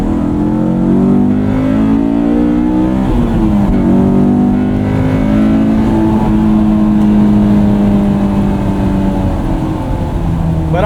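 A 2001 Honda S2000 engine revs steadily while driving, its loud, rising and falling tone continuous and close throughout with no talk.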